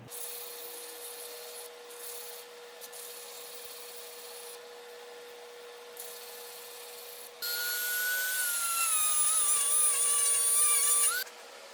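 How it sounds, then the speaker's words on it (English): Steady rubbing and grinding drone of sanding a walnut bowl runs throughout, growing louder and brighter partway through with a high whine layered on top. "This needs a little bit of sanding."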